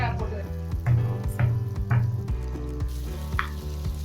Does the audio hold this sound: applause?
no